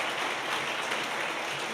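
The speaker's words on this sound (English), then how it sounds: "let's give Caitlin a round of applause for her award last year" A crowd at a public service award ceremony applauds with steady, dense clapping that stays even and moderately loud throughout, with no voices breaking through.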